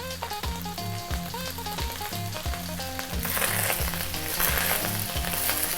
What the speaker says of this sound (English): That is your rice frying. Fry your rice.